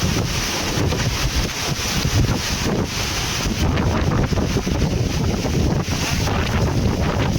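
Strong typhoon wind roaring without letup at Anda, Pangasinan, buffeting the microphone with loud, dense gusts that fill the whole clip.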